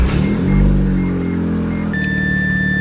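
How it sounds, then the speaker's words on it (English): A Mazda RX-7 idles and its engine rumbles, then a steady high electronic warning chime starts and holds continuously near the end. "you hear this beeping noise."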